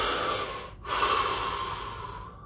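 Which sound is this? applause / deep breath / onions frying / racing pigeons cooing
deep breath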